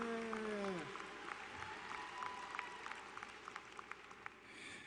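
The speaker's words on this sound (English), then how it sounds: "Give yourselves a round of applause for graduating today, so everyone make some noise." Graduates at a high school graduation ceremony clap and cheer in a big hall, a broad, distant wash of applause with scattered sharper claps rising out of it, following a brief electronic tone at the start.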